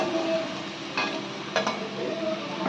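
Spices with onion, ginger paste, turmeric, cumin, Kashmiri chilli powder and tomato sizzle steadily in a pan for a Bengali prawn-coconut dish, with a few quick stirring scrapes breaking through, close and alone.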